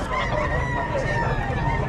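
A rooster crows loudly and close by, one drawn-out call over a noisy farmyard background.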